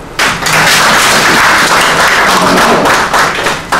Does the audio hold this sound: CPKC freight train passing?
no